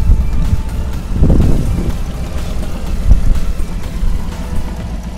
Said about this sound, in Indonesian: Dan ini tak bebani AC sama lampu, mesin masih tetap tenang ya.